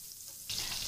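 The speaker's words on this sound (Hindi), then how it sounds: "सौते वेजी बनाने के लिए हम पैन में डाल रहे हैं थोड़ा सा ऑलिव ऑयल, उसमें हम डाल रहे हैं 1 टेबल स्पून बटर" Olive oil and a tablespoon of butter in a pan, quiet at first, then a sudden steady sizzle bursts up halfway through and continues at close range.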